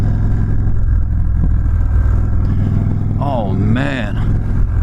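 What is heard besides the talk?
Indian Chief Darkhorse motorcycle engine revving during acceleration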